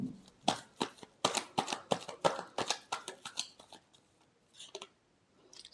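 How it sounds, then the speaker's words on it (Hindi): A tarot deck is shuffled in quick papery riffles and taps for about four seconds, then a few softer card sounds follow in near silence. "last shuffle,"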